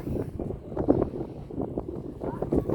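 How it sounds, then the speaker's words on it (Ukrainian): Wind buffets the microphone in low, uneven gusts on a riverside embankment in Zhytomyr, rumbling steadily throughout the short stretch. "Ой, тут якийсь такий вітер."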